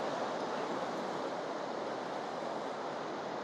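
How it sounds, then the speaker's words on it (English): Waterfalls on the Isle of Skye in autumn, heard as a steady, dense rush of falling water that holds at an even level throughout, close and continuous with no voices. "That's very impressive waterfalls."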